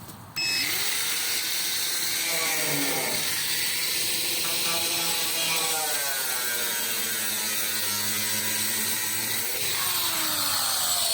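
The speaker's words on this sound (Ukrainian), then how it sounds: "зараз ми будемо пиляти бочку, ви почуєте, як працює болгарка" An angle grinder whines as it cuts through a metal barrel, its pitch sagging and rising under load in a long, loud, continuous cut.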